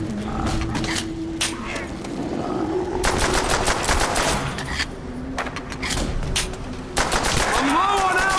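Rapid gunfire in Call of Duty: World at War Nazi Zombies, dense bursts of automatic shots running almost continuously with brief pauses, loud and close, mixed with game effects and a voice talking underneath.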